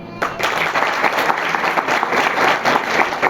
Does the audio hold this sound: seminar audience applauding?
yes